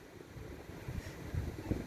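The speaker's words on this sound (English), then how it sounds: "It's windy" Gusty wind buffeting a microphone during a snowstorm in Toronto, low rumbling bursts rising and falling, with steady outdoor noise underneath.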